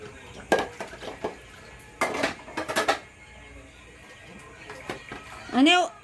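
Pots, a rice pot and dishes clatter and clink a few times in quick clusters during dishwashing while someone speaks nearby.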